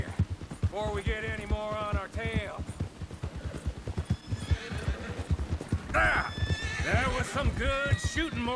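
Horses in Red Dead Redemption 2 whinny repeatedly, loud shrill neighs over a steady rhythm of galloping hoofbeats, with someone talking in between.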